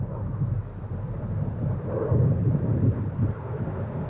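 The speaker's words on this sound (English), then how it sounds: "Here's the airplane taking off from there." An airplane taking off from a nearby airport, heard as a steady, fairly loud broadband roar and rumble that swells slightly partway through, with no talking.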